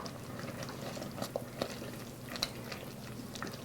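Pumpkin puree and Parmesan are stirred into risotto in a pot, giving soft, wet, thick squelching and scraping with a few sharper clicks of the spoon over a low, steady bubbling background.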